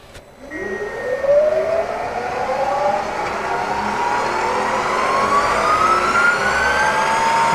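Bridgeport CNC milling machine spindle spinning up to 4,200 RPM, a loud whine sweeping steadily upward in pitch and then holding, close and unbroken.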